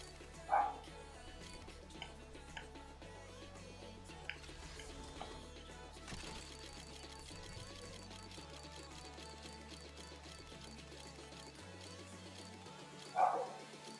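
Dogs bark near a home: two short barks, one at the start and one near the end, faint and somewhat distant above a quiet, steady background hum.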